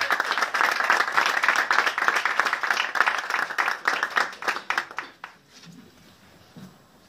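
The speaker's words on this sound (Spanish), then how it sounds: "Fuerte el aplauso para ella." A festival crowd at the 2018 Festival de la Canción in Puerto Montt applauds a singer with loud sustained clapping that tapers into scattered claps and fades out after about five seconds.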